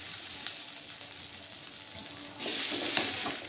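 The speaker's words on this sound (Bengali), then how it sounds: "বাকি যে পিসগুলো রয়েছে এগুলোও একে একে ভেজে নেব" Cabbage pieces fry in oil, first as a moderate, constant sizzle, then a sudden louder, brighter hiss and spatter when more pieces hit the pan partway through.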